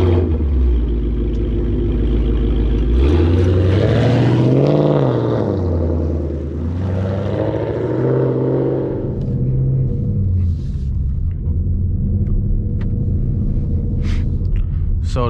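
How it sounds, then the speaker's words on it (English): A Ford Mustang GT engine rumbles low and heavy from inside the car while driving, a continuous deep drone that rises and falls as the car accelerates and eases off, with brief words spoken over it. "Mustangs have one of the most distinguishing, like, sounds you can get out of a car"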